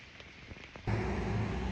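Rain falling steadily in an arboretum, a broad hiss of drops that starts soft and grows suddenly louder about halfway through, then continues as a dense, constant patter.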